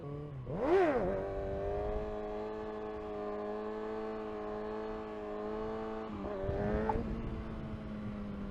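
A Kawasaki ZX6R motorcycle engine during a wheelie attempt revs up sharply, then holds a steady high drone for several seconds before rising again, heard close with no talking.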